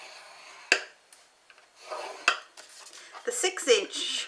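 A small ball tool scores marks into wood on a turned tapered-top box, giving sharp clicks and short scraping rubs at irregular intervals, with brief speech.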